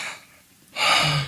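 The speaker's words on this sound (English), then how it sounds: "Why are you gasping though?" A woman gives one sudden, loud gasp, a sharp intake of breath right up close, after a quieter breathy exhale.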